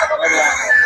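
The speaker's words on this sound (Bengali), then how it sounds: "এখানে কিছু দেশি মুরগি দেখতে পাচ্ছেন" Native chickens at a market cluck and call, a loud close bird vocalization that holds for under a second amid the stall's background.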